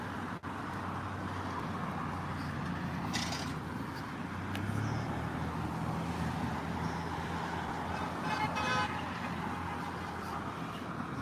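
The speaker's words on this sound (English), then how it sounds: "Hear the honks of support." Car horns honk from passing traffic on a city street at Central Park Drive in support of a march, with several short toots, fairly distant over steady road noise.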